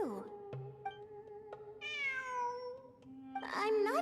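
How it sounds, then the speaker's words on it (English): A cat meows in the video game Genshin Impact, several clear tonal meows close up over quiet in-game background sound, with a rising, drawn-out cry in the middle and a louder one at the end. "It really is a cat."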